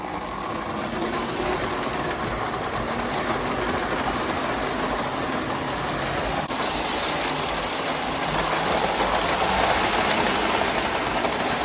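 Continuous whirring and clattering of an O gauge model Alco train running steadily on track, a dense mechanical hum close by throughout.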